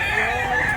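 A two-year-old big rooster crows at a Barili, Mantalungon market, a brief dense call heard mid-crow, steady and fairly loud over a low market background.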